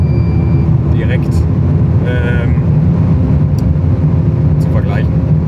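Car engine idling steadily as it warms up ahead of a knock test comparing 95, 98 and 102 octane fuel, a dense low rumble throughout with brief faint higher noises over it.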